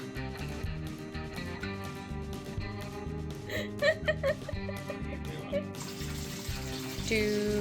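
A tap runs steadily while waiting for on-demand hot water to arrive, a continuous gentle flow under a voice and light background music, growing slightly louder toward the end.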